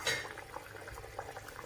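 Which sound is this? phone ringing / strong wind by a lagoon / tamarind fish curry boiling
tamarind fish curry boiling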